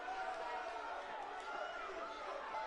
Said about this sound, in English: And the crowd not happy about that one.